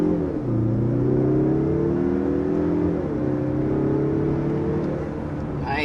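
A 2022 Mazda 3 hatchback with the 2.5 liter turbo four-cylinder accelerates hard, its engine note climbing steadily through gear changes from inside the cabin. A brief remark is spoken over it.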